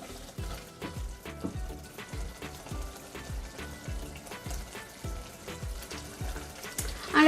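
Mutton bhuna frying in a pan while being stirred, a steady sizzle broken by regular, rhythmic scraping strokes of the spoon, close and moderately loud with no talking.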